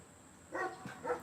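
A dog barking faintly in the distance outdoors near a front porch, two or three short barks over quiet background hiss.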